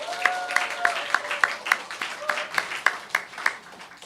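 A small church congregation claps in a steady rhythm, with sharp, evenly spaced hand claps close by and a faint tone held underneath.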